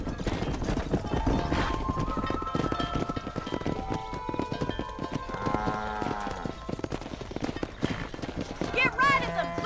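Horses' hooves clip-clopping in the Red Dead Redemption video game, a busy galloping patter with a neigh near the end, while people talk over it.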